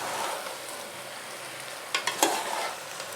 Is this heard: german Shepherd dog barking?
no